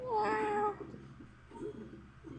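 A cat gives one drawn-out meow up close, followed by quieter low murmuring sounds in a still room.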